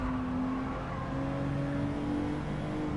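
A race car engine in Gran Turismo 7 during a WTC 600 race, held at high sustained revs with a steady droning tone that climbs slowly, continuous and loud with no talk.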